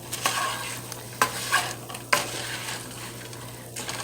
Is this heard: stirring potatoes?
yes